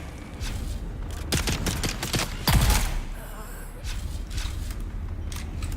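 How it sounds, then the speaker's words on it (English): Rapid bursts of gunfire in the video game Dune: Awakening crackle at mid distance, with a heavier shot in the middle, over a continuous background rumble and some talk. "Gunfire over here."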